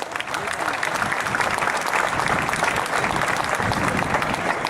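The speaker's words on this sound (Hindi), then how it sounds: "तालियां ऐसी बजें कि आकाश गूंज उठे." A packed audience in the Vivekananda Auditorium on the VIT campus claps loudly and continuously in a thick, sustained roar, with some voices mixed in.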